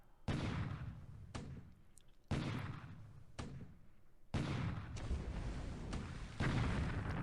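Bombardment in the War in the Pacific strategy game, with repeated heavy booming blasts that each sustain a rumbling roar before the next one lands, steady and alone without talk.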